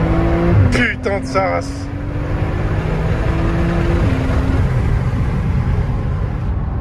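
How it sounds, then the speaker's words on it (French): A Porsche 911 Turbo accelerates hard from a toll booth using launch control. Its engine roars loud and close throughout, rising steadily in pitch with a gear change partway through, while voices talk and shout over it. "je suis parti en launch control au péage"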